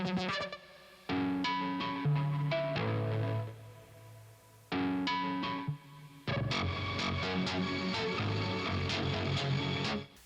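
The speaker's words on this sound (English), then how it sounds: "it's this progressive trance one that you get for free" A free Kontakt Leap progressive trance preset plays bright, layered synth chords and stabs in bursts separated by short gaps, the final phrase denser and busier, with no voices.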